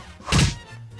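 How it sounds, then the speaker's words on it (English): Short cartoonish burst as a TNT block breaks in a homemade Angry Birds-style video game, a single loud thudding boom of about a quarter second that fades quickly, with no talk over it. "So when I break this TNT, it should have an explosion."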